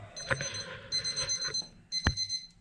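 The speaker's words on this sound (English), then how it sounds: "Got an alarm set for 2:05." An alarm clock ringing nearby in repeated electronic beeping bursts, three separate pulses with short gaps, plus a couple of sharp knocks under the tones.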